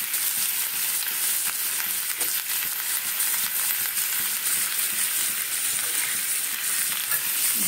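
Chopped capsicum sizzles steadily in a hot pan while being cooked for dalia, a continuous bright hiss with occasional stirring scrapes and no talking.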